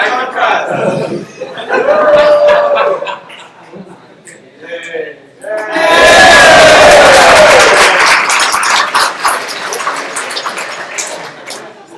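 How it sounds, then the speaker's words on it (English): A tech talk audience breaks into applause, cheers and laughter after a few seconds of chuckling and talk, the clapping swelling into a loud, dense burst near the middle and then thinning out to scattered claps. "Yeah, I knew I would get applause."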